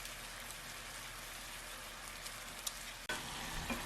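Pork belly sizzles steadily in a dry frying pan with no added oil, a dense, even crackle throughout, with one sharp clack near the end.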